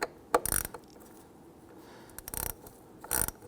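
Screws being snugged down on the mass air flow sensor of a 2008-2017 Buick Enclave 3.6L V6, heard as three short bursts of ratchet clicking, close and fairly quiet, with pauses between them.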